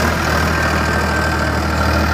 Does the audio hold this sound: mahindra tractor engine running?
yes